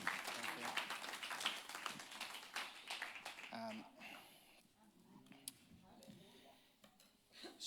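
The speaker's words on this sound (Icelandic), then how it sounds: "Hvernig væri að gefa þeim gott klapp?" A church congregation claps in welcome for a pastor and his wife. Loud, dense clapping fills the first few seconds, then thins out into scattered claps and fades, with voices murmuring underneath.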